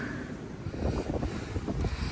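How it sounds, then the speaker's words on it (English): Strong, steady wind roars and buffets the microphone on a rooftop during a boiler installation, a dense low rumble with gusty surges throughout and no voices. "it's really windy up here"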